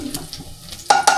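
Garlic frying on low heat in a pan for black sauce pasta, a short burst of sizzle with a spoon scraping and stirring against the pan, close and fairly loud.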